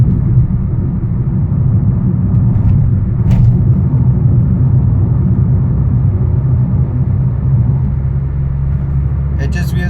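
A Suzuki Smart Hybrid car's engine runs above 2000 RPM as a steady, loud low rumble heard from inside the cabin, with no break throughout.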